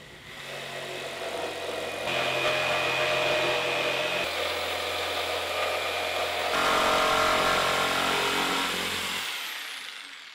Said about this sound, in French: Nous allons découper notre disque dans une plaque de contreplaqué.